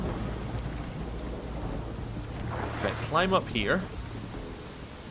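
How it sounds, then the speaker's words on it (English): Rain falls steadily with low thunder rumbling in The Witcher 3: Wild Hunt, a continuous backdrop while someone speaks briefly in the middle. "A little bit of rain, huh?"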